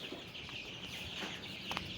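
Tiger breed chickens cluck on a farm, faint scattered clucks and calls over low background noise with no speech.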